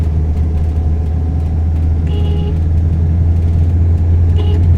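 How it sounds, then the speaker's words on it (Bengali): A car engine pulls hard up a hilly road, giving a loud, steady, low rumble that drones without a break and with no voices over it. "জোরে অ্যাক্সেলেট জোরে দিয়ে শক্তি বেশি দিয়ে উঠতে হবে"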